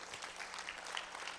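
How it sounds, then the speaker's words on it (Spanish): Church congregation applauding during a service, a steady, moderately loud wash of clapping that carries through the whole stretch without voices. "Dale un aplauso al Señor."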